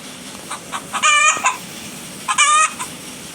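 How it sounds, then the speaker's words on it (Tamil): A chicken in a video game gives two loud, drawn-out clucking calls about a second and a half apart over a quiet background. "இந்த கோழி கூட சத்தம் போட்டு இருக்குது"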